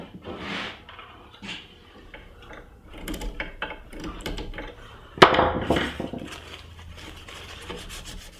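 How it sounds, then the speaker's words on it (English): Sanding on the wooden top of a TV cabinet makes uneven rubbing and rasping strokes. The strokes are fairly quiet, with a harder scraping burst partway through. "now I'm going to attach the lid and start to sand the top"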